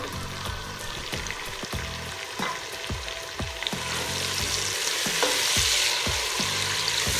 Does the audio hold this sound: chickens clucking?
no